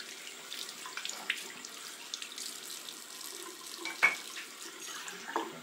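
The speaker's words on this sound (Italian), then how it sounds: "Mettiamo sempre l'acqua calda il più possibile" Hot water runs steadily from a tap in a barbershop during a shaving lesson, a faint, continuous splashing stream with small spatters and no talking.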